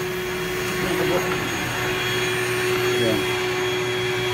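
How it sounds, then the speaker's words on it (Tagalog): A vacuum cleaner sucking up wasps beside a house runs with a steady, loud droning whine and a constant hum. The motor noise holds even throughout, and a voice speaks briefly over it. "At sa ngayon, patatayin po natin yung vacuum natin."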